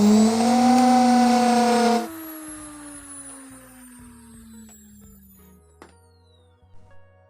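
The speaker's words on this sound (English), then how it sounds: "The motor is working," A front-load washing machine motor with a visibly burnt winding, held steady with a wooden stick during a bench test, whines loudly and steadily, then cuts off and winds down with a falling pitch, followed by a few faint clicks.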